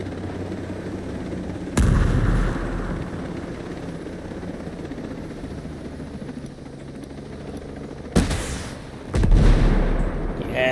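Missiles fire from a vehicle in Ghost Recon Breakpoint over a steady helicopter-like rotor drone, with one sharp launch blast early on and two more loud bursts near the end.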